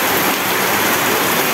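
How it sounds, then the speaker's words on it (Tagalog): Rain falls steadily during a motorcycle ride, a dense, loud, even hiss filling the short stretch with no voices. "inabutan pa ng ulan."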